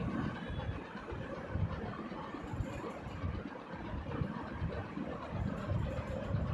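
A video game train rumbles along steadily with a continuous low mechanical roar and faint rhythmic clatter, with no talking.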